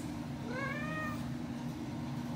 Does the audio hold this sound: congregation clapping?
no